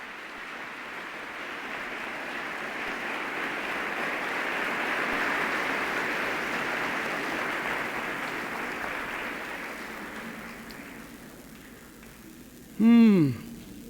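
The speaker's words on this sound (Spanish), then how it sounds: "Dele un buen aplauso a él." A church congregation applauds during a sermon, a broad wash of clapping that swells, holds and slowly fades over many seconds, followed by a brief loud electronic tone at the end.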